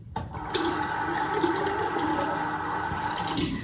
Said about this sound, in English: Empty bottle. We're gonna fill it up with water.